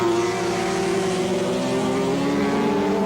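A 1983 Honda superbike races through tight twisty bends, its engine howling loud and steady at high revs with a sustained mechanical whine from close by.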